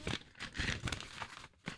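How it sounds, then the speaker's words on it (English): A plastic bag crinkling close to the microphone in quiet bursts of rustling and crackling, a few irregular handling sounds separated by short gaps, with no speech over it. "Sounds like a plastic bag."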